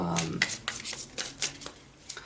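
A deck of tarot cards is riffled and shuffled by hand, with a quick series of crisp, papery flicks and taps in an uneven rhythm, close and fairly loud.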